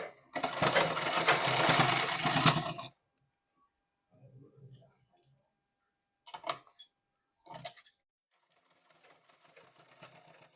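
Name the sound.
sewing machine stitching fabric, double stitching a frock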